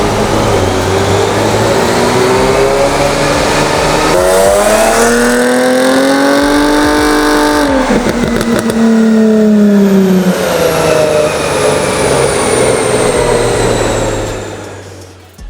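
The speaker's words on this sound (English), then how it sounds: "once you hear this exhaust, you'll understand why exactly" A tuned Jaguar's engine revs hard several times, its exhaust rising and falling in loud, throaty sweeps, close by with a crackle between pulls.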